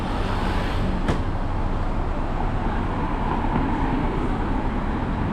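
A continuous broadband roar of road traffic on straight streets of reclaimed land in Macau, steady and fairly loud, with vehicles passing close by and no voices.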